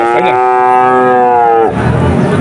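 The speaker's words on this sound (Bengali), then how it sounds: "4টা ফ্রিজিয়ান জাতের বাছুর, 4টা দর্শক, খুবই সুন্দর বাছুর।" At a cattle market a Friesian calf gives one loud, drawn-out moo close by, followed by muffled market noise.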